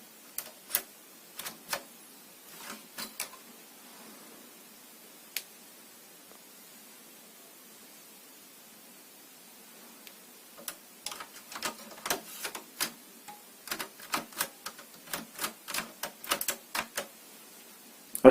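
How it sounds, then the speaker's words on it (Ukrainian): Small plastic clicks and ticks come from opening the ExpressCard slot on a Fujitsu LifeBook E782 laptop, scattered and faint, with bursts of rapid clicking in the second half. "Також хочу продемонструвати, як відкривається у даному ноутбукові слот під експрес-карту."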